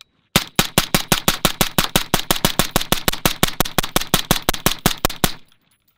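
A SIG Spear rifle fitted with a Sico Velos LBP suppressor fires 55-grain rounds semi-automatically outdoors. Nearly thirty sharp, close, evenly spaced shots come in a fast, steady string, then stop.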